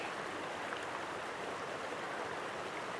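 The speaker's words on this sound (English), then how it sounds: "I'm actually surprised that there's this much water flowing" Bear Creek, the outflow stream below Big Bear Lake, rushes steadily with broad, even water noise, close and constant throughout with no voices.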